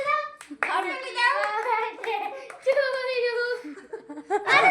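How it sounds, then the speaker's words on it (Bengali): Children clap their hands at a birthday party, the claps mixed into loud, excited children's voices and shouts that run through the whole stretch. "সবাই হাততালি দাও"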